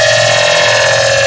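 A heavy, distorted synth screech run through multiband compression and reverb sustains as a loud, dense, metallic buzzing tone for just over a second, with no voices.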